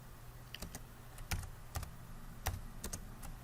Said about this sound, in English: now I can go ahead and type in what I want people to know about that particular chunk